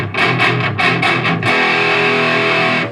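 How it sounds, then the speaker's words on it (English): Electric guitar played through an amp with heavy distortion: a few choppy palm-muted chugs, then a sustained ringing distorted chord that holds loud and close before cutting off. "We're going to need some distortion"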